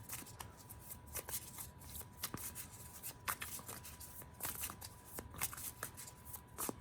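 Tarot cards are shuffled and drawn by hand, heard up close as a quiet, steady papery riffling with scattered crisp snaps and flicks.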